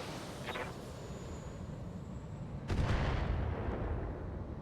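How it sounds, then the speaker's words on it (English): Mortar volley in the BattleTech game: a distant thump early on, then a heavier rumbling boom that sustains as a loud roll of impacts, no voices. "now is a perfect opportunity to hit them with some mortars"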